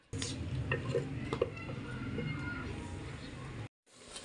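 Onions frying in hot oil in a Pakistani village kitchen, stirred until brown: a steady, close hiss of frying with scraping and light clinks from the stirring utensil, then a brief cut to silence near the end.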